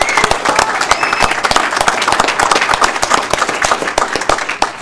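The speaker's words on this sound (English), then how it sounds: "Let's give them another round of applause." A city council meeting audience gives a round of applause for team moms: loud, close, lively clapping from a crowd with distinct individual claps, sustained throughout.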